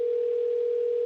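A telephone dial tone sounds while calling a phone number: a steady, unbroken single-pitched hum, clear and constant throughout.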